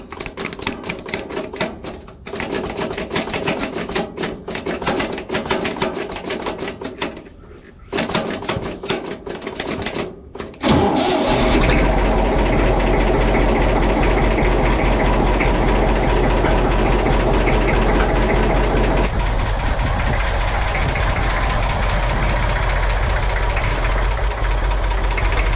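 A Massey Ferguson 35 diesel tractor with a faulty neutral safety switch first gives rapid, irregular clicking and chattering as it tries to crank, then fires up into a loud, steady low diesel rumble that idles on to the end.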